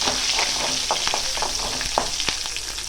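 Slit green chillies sizzle in hot oil in a pan, a steady close crackle of frying with occasional sharper pops and faint scraping as they are stirred, no talk.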